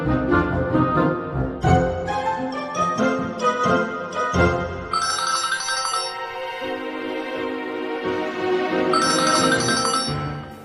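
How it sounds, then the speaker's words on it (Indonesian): A mobile phone rings with a bright electronic melody, repeated chiming phrases that carry on loudly and alone for about ten seconds. "Sekarang gue telepon, handphonenya pas bunyi lagi."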